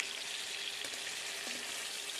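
Potatoes fry in oil until reddened for a meat dish, giving a steady, close sizzle and crackle throughout with a couple of faint clinks and no voices.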